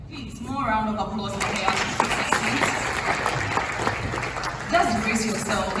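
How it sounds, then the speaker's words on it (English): An audience at a university student council event applauds with sustained, dense clapping that swells and holds for several seconds, moderately loud in a large hall, while a voice speaks over the start and end. "Please, more round of applause for Leah."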